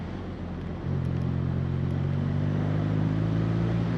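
A 2016 BMW R nineT motorcycle being ridden through corners, its engine a steady close hum that rises into a stronger, sustained drone after the first second, loud and continuous with wind noise and no talking.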